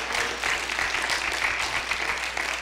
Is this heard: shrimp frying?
no